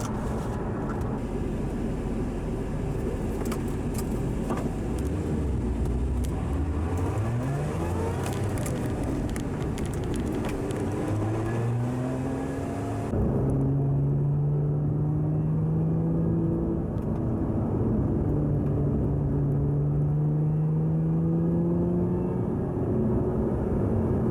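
Lotus sports cars, including an Exige, drive on an open road, with a steady loud engine drone and wind roar, gear-change pitch sweeps and rising revs as the car accelerates.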